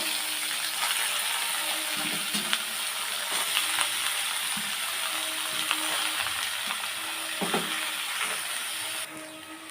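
Cabbage frying in a pan with ground cumin, coriander and fennel, a continuous moderate sizzle with occasional scraping stirs and small metallic clinks, close and steady.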